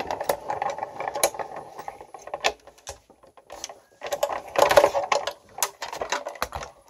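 Cuttlebug die-cutting machine cranked by hand with its cutting plates, a close mechanical ratcheting and grinding in uneven bursts with brief pauses between turns.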